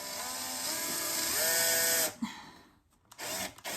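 A power drill or screwdriver whirs steadily, driving screws into furniture during a DIY bedroom makeover, with its pitch rising and falling before stopping abruptly, followed by brief clicks and handling noise.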